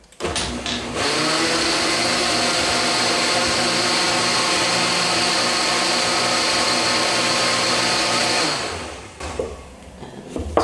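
A blender whirs loud and steady for about eight seconds, blending toasted macadamia nuts with heavy cream for keto horchata, then spins down and stops near the end.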